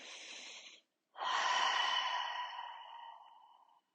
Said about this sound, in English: Take one more breath right here.